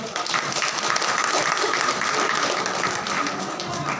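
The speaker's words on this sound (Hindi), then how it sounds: "एक बार जोरदार तालियों से स्वागत करेंगे" Sustained applause from an audience welcoming an Indian scientist at a product demonstration event in Panipat, a dense even wash of clapping filling the whole stretch without any speech over it.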